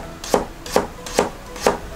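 A knife cuts a carrot into thin diagonal slices on a cutting board in four even chops, each with a crisp knock, with no talking.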